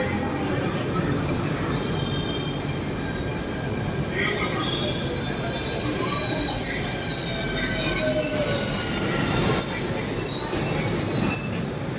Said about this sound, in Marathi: सो फायनली आपली मेट्रो आलेली आहे।